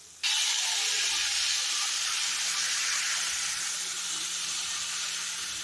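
Water poured into a hot pan of vegetables being cooked sets off a loud, steady steam hiss and sizzle that starts abruptly and holds for several seconds, slowly easing.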